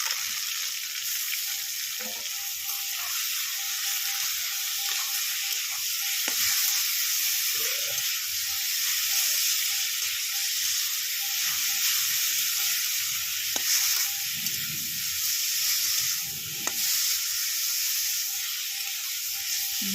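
Prawns and kohlrabi stir-frying in a pan, a loud steady sizzle throughout with occasional scrapes and knocks of the stirring spoon, no talk.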